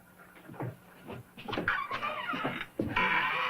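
A dog pants and whimpers close by in short, breathy bursts that come and go unevenly, with no talk over them.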